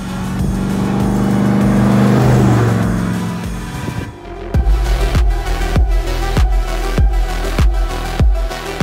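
A restored Land Rover Defender 110 fitted with a 450-horsepower GM LT1 V8 and 8-speed automatic revs loudly, a sustained rising roar followed by a rapid series of sharp throttle blips, close and unaccompanied by talk.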